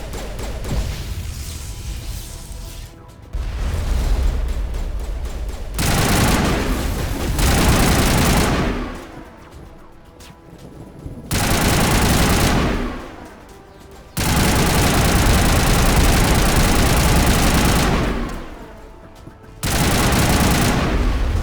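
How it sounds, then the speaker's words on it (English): Heavy artillery and gunfire erupt in the Mass Effect video game, loud bursts of dense shooting and booms lasting several seconds each, separated by brief quieter gaps. "We must find a way to disable their artillery."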